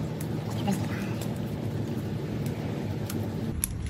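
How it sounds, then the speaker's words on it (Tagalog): Steady heavy rain hisses close by beside a house, with a few sharper drops or taps above the constant wash. "Lumala kasing ulan guys"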